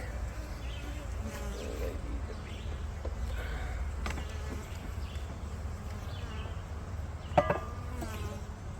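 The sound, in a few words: honey bees buzzing during a hive inspection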